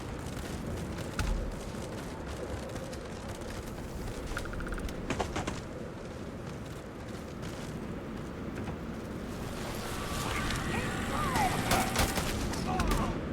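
Rapid gunfire bursts from the space game Starfield, crackling continuously at moderate loudness over game ambience, intensifying toward the end, with a voice talking over it.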